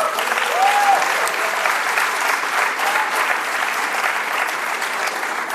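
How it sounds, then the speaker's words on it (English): Graduation ceremony audience for the RSM MBA and EMBA programmes applauding a graduate, a dense sustained round of clapping from a large crowd, loud and even throughout. "a round of applause, please"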